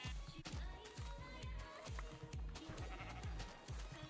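Sheep in the Minecraft Beta video game bleat a few times, mixed into a steady, beat-driven background song that plays throughout.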